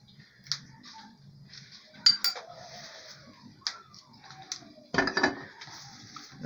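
Shrimp ceviche tossed with ground oregano, ajinomoto and cumin in a dish, spoon or utensil clinking against the bowl in scattered taps and scrapes, close and clear with no talk.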